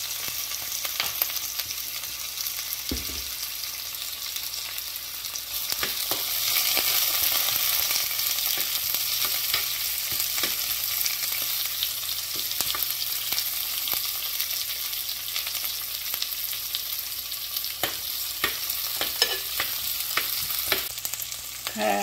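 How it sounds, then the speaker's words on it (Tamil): Onions and curry leaves frying in hot oil with mustard seeds, fennel and dried chillies for a Jaffna-style cassava curry tempering, a steady close sizzle broken by occasional scraping stirs, with no talking. "கலக்கி வதக்கி தாளி சென்றிருக்கிறோம்"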